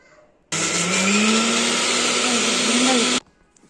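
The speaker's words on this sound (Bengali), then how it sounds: "এখন হচ্ছে এগুলো ব্লেন্ডার করব" Kitchen blender whirring close and loud, switched on abruptly and running at a steady high-pitched roar with a slight rise in motor pitch for about three seconds before cutting off sharply.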